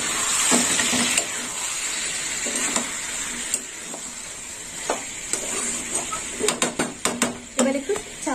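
Diced tomato sautéing in a pan for a mung dal with ridge gourd and prawns, a steady frying hiss broken by spoon scrapes and clinks against the pan, growing into a quick run of knocks near the end.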